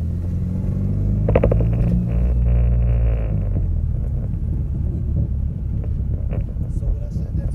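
A car engine idles after a cold start with a low, steady rumble and some wind buffeting at the microphone, while a voice talks briefly over it early on.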